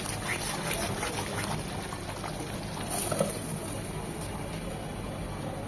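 Spice paste for a prawn roast frying in a pan, a steady close hiss and splatter with dense broadband crackle that holds at an even level throughout.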